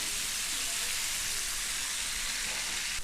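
Meat sears in a hot pan with olive oil, butter and thyme, giving a steady, close sizzle with fine crackling spatter that runs continuously and evenly throughout.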